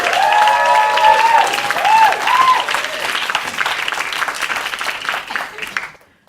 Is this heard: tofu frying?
no